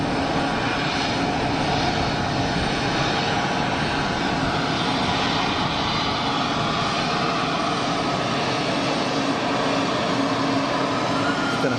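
An EasyJet airliner on a long final approach to Geneva Airport gives a loud, steady jet roar that holds without a break throughout.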